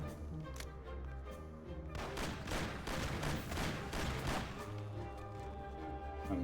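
Gunfire in the video game Mafia: The City of Lost Heaven, a rapid cluster of crisp shots in the middle over a low, steady game background hum, with a few isolated pops before and after.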